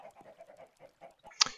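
Minecraft chickens floating in water on an automatic farm give a few soft, quiet clucks and chirps, closing with one brighter, louder cluck.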